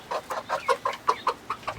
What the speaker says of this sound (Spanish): Tenemos 14 gallinas.